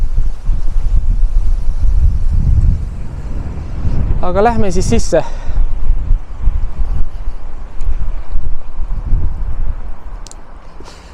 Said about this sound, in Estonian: Praegu on hull tuul.